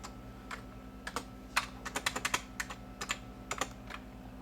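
Typing on a Packard Bell computer keyboard: a steady run of sharp, close key clicks in irregular bursts over a low electrical hum, with no talking.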